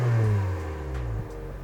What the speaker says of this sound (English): Got a little bit of popping there in the back.